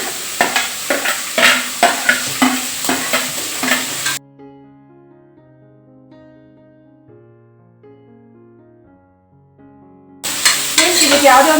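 Vegetables frying in oil in a pan for avarekalu and soybean pulao, a dense close crackling sizzle with stirring at the start and end, interrupted by a stretch of soft instrumental music.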